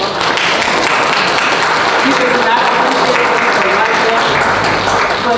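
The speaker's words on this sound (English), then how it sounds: "So can we just give him a round of applause?" Attendees at a special called budget meeting give a loud, sustained round of applause, thick and continuous clapping filling the room without pause.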